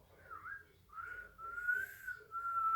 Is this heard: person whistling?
yes